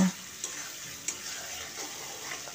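Dry spices stirred and sautéed in a hot pan for a vegetarian pumpkin dish, a soft steady sizzle with a couple of light scraping clicks from the spoon, close and quiet, no talk.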